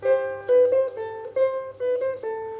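A ukulele plays a short melody of bright plucked notes, several in a row with brief gaps between, clear and alone.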